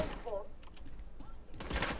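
Enemy gunfire in the video game Division 2 crackles in short, scattered bursts aimed at the player, faint and low in the mix, while a voice talks over it.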